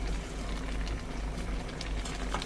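Curry simmers at a rolling boil in a pot, giving a steady close bubbling and gurgling that continues throughout with no talking.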